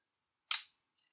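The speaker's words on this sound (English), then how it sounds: "It's a louder shutter than the Pen S." A single sharp click of an Olympus Pen EED half-frame camera's shutter firing, loud and close, followed by a faint mechanical tick a moment later, with no voices.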